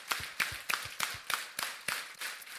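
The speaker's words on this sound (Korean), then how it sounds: "애매하게 하지 마시고 크게 박수를 한 10번 치겠습니다." A church congregation claps hands in unison at an early morning prayer service, about ten loud, evenly spaced collective claps in a steady rhythm, with no talking.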